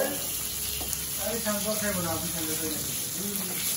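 A large fish frying in hot oil, a steady sizzle running throughout with a person speaking over it.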